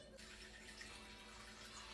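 Warm filtered water poured into a bowl for sourdough dough, a steady continuous rushing stream heard close and alone.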